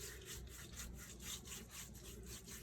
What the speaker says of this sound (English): You just want to give it a good rub.